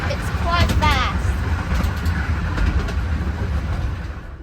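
Romney, Hythe and Dymchurch miniature railway train moving along the line, a steady rumbling roll with continuous rattle heard from onboard, with brief higher tonal squeals early on and a voice talking over it.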